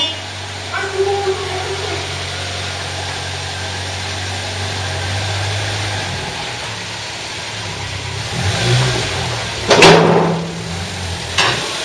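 A Renault Super 5 SL engine started after 17 years without being driven, idling with a low steady hum that then falls away, followed by a few clunks and a sharp louder burst near the end.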